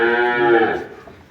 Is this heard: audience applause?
no